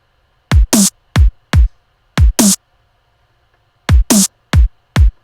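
A looped, processed electronic snare drum sample plays in a syncopated pattern, with sharp bright cracks coming singly and in quick pairs, loud and dry with silent gaps between groups.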